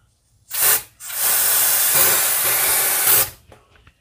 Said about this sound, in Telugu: ఈ 2-in-1 మళ్ళీ మనం లిక్విడ్ని స్ప్రే చేద్దాం లైవ్ డెమో.